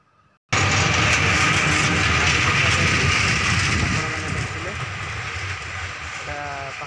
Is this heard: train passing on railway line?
yes